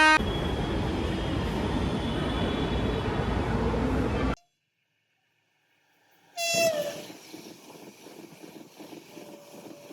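A metro train arrives at Majestic station in Bengaluru, India, with a loud, close rumble that cuts off, then returns after a pause with a sharp tonal horn-like squeal and fading rolling noise.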